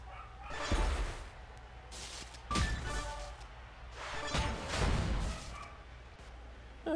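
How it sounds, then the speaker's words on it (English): A dog barks a few times in the background, short bursts spaced apart against a steady low hum. "apologies if you can hear the dog in the background"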